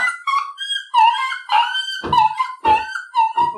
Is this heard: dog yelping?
yes